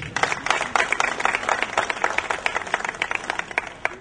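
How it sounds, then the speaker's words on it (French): A crowd applauds a visiting delegation at a Maracana football tournament gathering in Montreal. The clapping is lively and scattered, a steady patter of many hands lasting throughout. "de vibrants applaudissements à toute cette délégation qui se trouve là"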